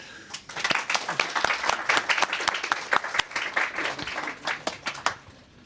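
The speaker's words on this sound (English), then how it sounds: "So another round of applause, please." Audience applause at a game jam award livestream, individual sharp claps from a modest crowd, fairly close and uneven, building and thinning over several seconds with no talk.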